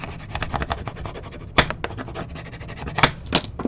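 A bone folder is rubbed firmly over paper on a handmade craft piece, making a series of close, dry scraping strokes broken by a few sharper clicks.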